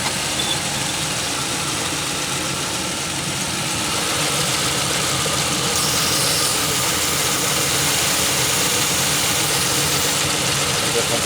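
Pontiac Aztek engine idling in a junkyard, a steady broadband hum and rattle heard close up with an even, unbroken level throughout.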